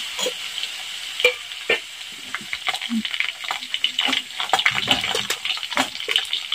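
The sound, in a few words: cumin and garlic roasting in oil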